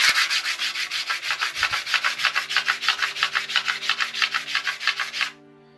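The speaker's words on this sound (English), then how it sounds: "I'm just gonna start with a 240 paper to get rid of all the scratches and, you know, big surface irregularities." A handmade ring is sanded by hand on 240 grit paper laid on a glass plate, giving a clear, even run of about two dozen rhythmic scratchy back-and-forth strokes that stop abruptly near the end, with no talking.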